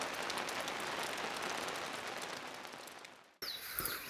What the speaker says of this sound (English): it's been raining pretty hard.